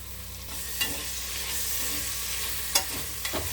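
Tomatoes sautéing in hot oil with softened onions in a pan for biryani, a soft continuous sizzle broken by a few sharp scrapes and clanks of stirring, no talk.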